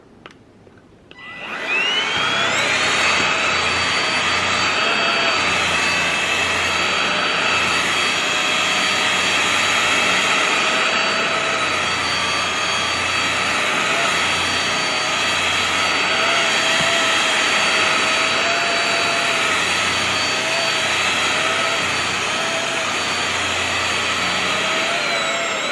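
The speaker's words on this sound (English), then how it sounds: "I'm going to go ahead and vacuum this up." Dyson vacuum cleaner fitted with an attachment switches on with a loud roar and then runs steadily and continuously while vacuuming cat fur off a chair, with no talking.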